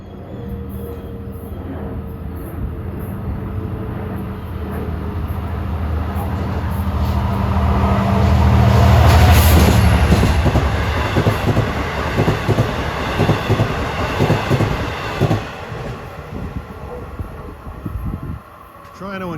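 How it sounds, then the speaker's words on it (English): A Long Island Rail Road diesel train bound for Montauk, with locomotive 423 leading, approaches with a growing rumble, passes loudest near the middle, then clatters away over rail joints. "This is one of those extra diesel trains that were put on this line with the February schedule change."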